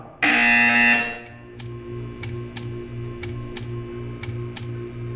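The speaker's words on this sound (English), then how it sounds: "You will hear a buzzer." A loud, harsh buzzer in the video game Portal 2 sounds for about a second, then a series of soft, evenly spaced ticks continues over a low hum.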